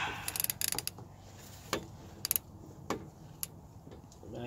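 A size 14 socket on a wrench works a car lug bolt loose during a brake change, giving sparse, sharp ratcheting clicks in irregular bursts, close and fairly quiet.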